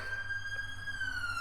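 A police car siren sounds in the distance, a steady high wailing tone held throughout a short moment over faint street background.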